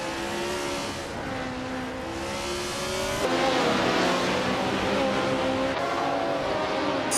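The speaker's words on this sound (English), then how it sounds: "Vanya Shell Gaming is driving a Ferrari 312" A Ferrari 312 racing car engine screams at high revs in a racing video game, a loud sustained whine with audible gear-change steps and climbing pitch, no talk over it.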